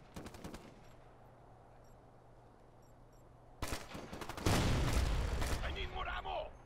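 Gunshots in Ghost Recon: Future Soldier: a short burst at the start, then a quiet pause before a loud, dense volley of rapid automatic fire and heavy blasts that continues to the end.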